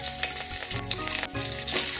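Green chilli hits hot oil in a home kitchen pan before a vegetable is stir-fried, giving a loud, steady crackling sizzle with brief stirring scrapes and no talking.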